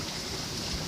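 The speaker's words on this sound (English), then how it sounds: "It is raining pretty hard." Heavy rain pours down steadily outdoors, a dense, even hiss of water with no breaks and no voices.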